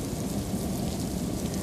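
Heavy rain falling in Mumbai during a sudden storm, a dense, continuous hiss and patter with low rumble beneath, steady and loud with no speech.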